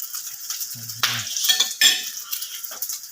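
An omelette sizzles close up in a frying pan. Crackling frying noise sits under brief scraping and stirring clatter from a utensil against the pan, with no voices.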